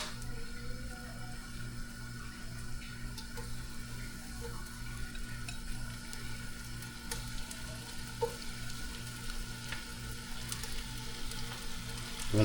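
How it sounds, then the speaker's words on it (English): Pork sizzles as it sautés in a pan for adobo, a steady crackling fry with occasional sharper pops and faint stirring clinks, continuous and close throughout. "We're gonna saute this."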